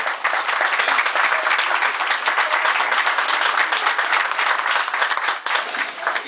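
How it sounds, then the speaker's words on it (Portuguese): Thick, continuous applause from an audience honoring a couple during an 80th birthday tribute, staying loud and even from start to finish with only a brief dip near the end. "Palmas pro casal"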